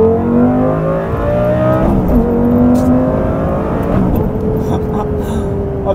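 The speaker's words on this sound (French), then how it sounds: "On se refaire une petite accel." An Audi supercar accelerates hard, its engine note climbing loud and steady through the gears, close inside the cabin with a brief shift dip partway through.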